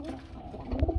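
Lalchulli pigeons, a breeding pair at a pigeon market, give a short low throaty coo close by, a couple of soft pulses near the end of a brief moment.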